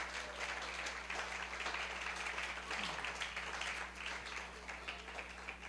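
A church congregation applauds at a pastor's sermon, steady dense clapping from many hands heard at a moderate distance over a low electrical hum.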